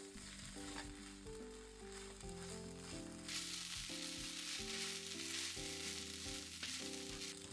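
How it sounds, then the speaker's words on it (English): Boiled ketchup being stirred into rice in a hot pan for omurice: a steady close sizzle with soft scraping stir strokes, over quiet background music. "Once the ketchup boils, mix it with the rice."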